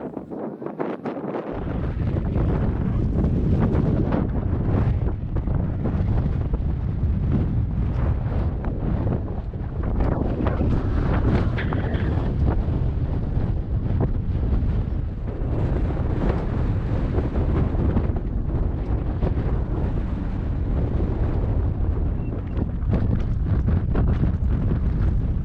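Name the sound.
wind blowing on an anchored boat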